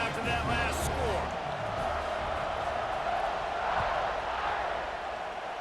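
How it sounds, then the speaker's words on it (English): Stadium crowd buzzing in a college football video game, a steady broad roar of many voices filling the space, with a commentator talking over it throughout. "this crowd is buzzing after that last score"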